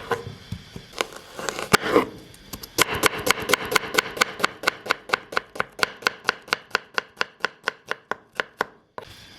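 Two small onions are chopped finely with a knife on a board in a home kitchen, producing a long run of sharp, evenly spaced chops that speed up into a steady rhythm, close and fairly loud.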